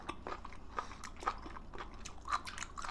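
Close, wet chewing and biting on raw sea cucumber eaten as sashimi, with soft crunches and squishes repeating irregularly at a low level, no talk over it.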